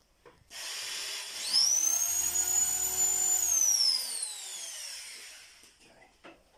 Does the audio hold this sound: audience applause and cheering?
no